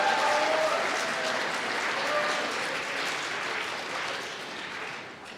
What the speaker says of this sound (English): We just wanted to give a round of applause to Troy for doing wonderful on the piano today.